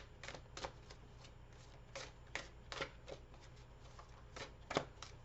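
Tarot cards being shuffled and pulled by hand, a series of soft, quick riffling and flicking bursts in irregular rhythm, close and fairly quiet against a steady low background hum.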